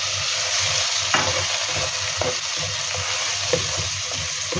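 A large, finely chopped onion frying in a quarter cup of hot oil gives off a steady, loud sizzle, with several clear scrapes of a spoon stirring it in the pan and no talking.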